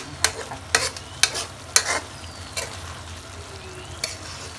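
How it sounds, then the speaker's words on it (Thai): Red curry paste stir-fried with roasted duck in a hot pan for a Thai red curry, with a steady low sizzle under a handful of sharp utensil scrapes and taps spaced about half a second apart, close and with no talking. "ผัดให้หอมก่อนนะคะผัด"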